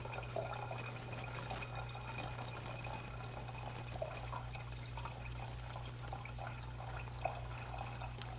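Liquid is poured into a tank fitted with a pressure sensor, giving a faint, steady trickling and dripping over a constant low electrical hum.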